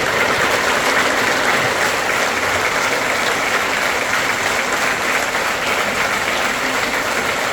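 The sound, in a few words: audience applauding loudly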